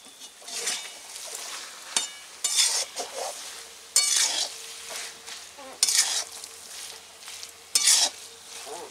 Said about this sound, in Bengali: একটু গরম হয়ে গেল, এবার নাড়াচাড়া করে দাও।